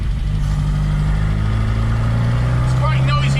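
A 1969 Reliant Regal's engine runs with its engine covers off, a loud, steady mechanical drone throughout with a slight rise in pitch near the end.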